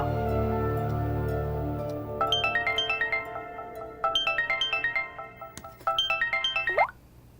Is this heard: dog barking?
no